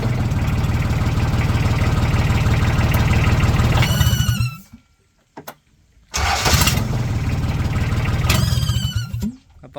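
A Kubota D1005 diesel engine cranks and runs loud and close with a rapid knocking rhythm, cuts out into near silence around five seconds, then restarts and clatters again before stopping.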